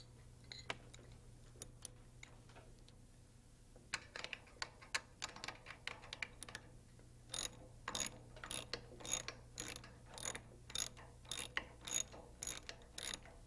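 A ratchet drives a greased teeter block bolt on a Rotorway EXEC 162F helicopter, clicking in quick close bursts that become denser and more regular as the bolt goes in, over a faint steady hum.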